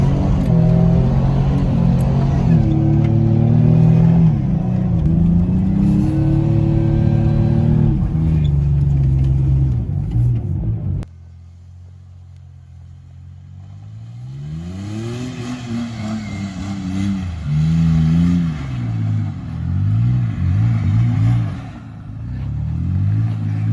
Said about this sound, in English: Some donuts and burnouts for the vlog